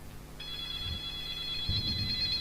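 An Android phone rings with a steady, bright electronic tone that starts shortly into the moment and continues throughout, over low background rumble and a couple of soft thumps.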